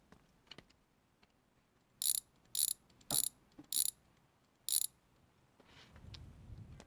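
A drift-spec BMW E36 comes down on a garage car lift, giving five sharp metallic ratcheting clacks at even intervals over a quiet background, followed by a low mechanical rumble.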